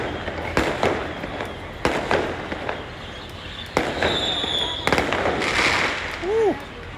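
Fireworks bursting outdoors after the evening iftar meal in Malaysia, a series of sharp cracks and booms spread across several seconds at moderate distance, with crowd chatter and a brief whistle-like tone in the background.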